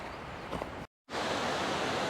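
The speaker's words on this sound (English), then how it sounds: "So I found these two nice waterfalls over here" Steady broadband rush of a waterfall beside a hiking trail, loud and close, with a brief total dropout in the middle before the roar resumes.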